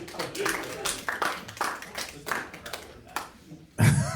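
An audience at a comedy showcase held in a library after dark breaks into applause, with quick bursts of clapping mixed with voices and a loud final swell.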